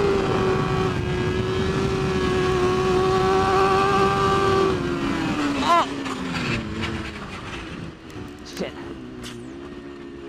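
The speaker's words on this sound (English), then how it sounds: "Get on the throttle." Polaris Ranger Crew XP 1000 NorthStar Edition side-by-side engine holding a steady loud drone, then shifting and revving unevenly with rattles and bumps from the ride, while people talk over it.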